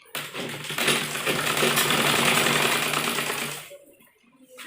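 A sewing machine stitches the seam of a churidar pajami, a close, steady whirring run of a few seconds that slows and stops near the end.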